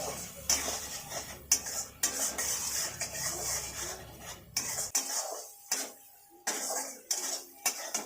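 A spoon scrapes and clinks against a cooking pot while spice masala is stirred in oil, with repeated sharp taps and a soft sizzle underneath, fading to quieter intermittent knocks later.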